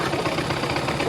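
Motorcycle engine running with the exhaust held shut, a loud, dense, rough rumble filling the whole moment without pause.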